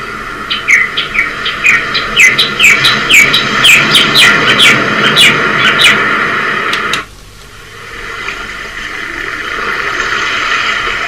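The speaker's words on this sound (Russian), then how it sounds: "Птички где-то возле прибоя тоже." Many bright, repeated bird chirps over a steady wash of surf, ending abruptly partway, leaving only the rushing waves.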